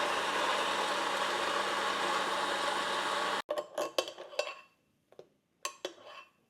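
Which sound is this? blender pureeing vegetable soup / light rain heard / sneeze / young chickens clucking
blender pureeing vegetable soup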